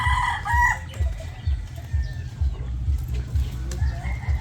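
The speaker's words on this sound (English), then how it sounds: "Lots of chickens over here." Chickens cluck and a rooster crows at close range, over a steady low rumble of outdoor background noise.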